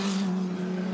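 A Formula 4 race car screams past at Sandown Raceway near Dandenong Road corner, a loud, sustained high engine tone held close for under a second.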